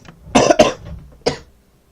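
A person coughs three times, close and loud: two quick harsh coughs back to back, then a single cough after a short gap, with nothing else around.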